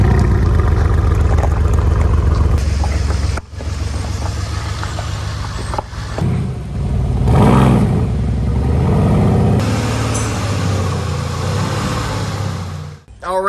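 A Mercedes C63S AMG V8 rumbles steadily at close range as the car creeps into a shop, with a deep, continuous engine drone and a brief swell in the middle.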